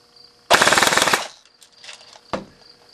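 A Killbucket FN 30 airsoft gun fires a quick full-auto burst of about a dozen close, crisp shots over a chronograph, followed by a single short pop.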